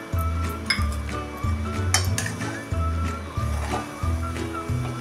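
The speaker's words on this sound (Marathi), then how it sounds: "हे आता चांगलं एकसारखं हलवून घेऊया" Mango pulp from Alphonso mangoes, blended without water, being stirred in a metal pan with a spoon, giving repeated scraping clinks and knocks in a steady rhythm, close up, with no talk.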